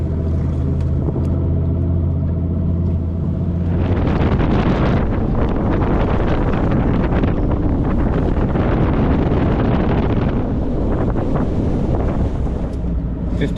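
A bass fishing boat's outboard motor at a tournament launch on Buggs Island. A steady low hum roars up to full throttle, buffeted by heavy wind noise as the boat runs, then eases off near the end.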